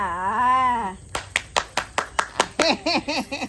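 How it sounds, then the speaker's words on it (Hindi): Hands clap in a quick series of sharp, separate claps with a steady rhythm, close and fairly loud. A sung or drawn-out vocal tone comes first, and chirpy vocal sounds overlap the later claps, in a rustic comedy setting. "ताली मारो।"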